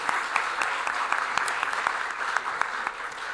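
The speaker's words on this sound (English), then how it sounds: "If we can have a quick round of applause for the panelists, please." Brief, lively applause for forum panelists at a Halal Economy Leadership Forum, with crisp individual claps standing out over a dense, even wash of clapping.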